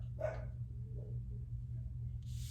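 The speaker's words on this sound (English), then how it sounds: "Sorry if you just heard my dog's bark." A pet dog gives a single bark in the distance, a brief burst over a constant low electrical hum, followed by a soft shuffling noise.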